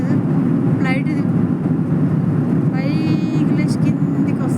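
An airplane passes overhead as a broad, steady engine roar. Voices talk over it from close by.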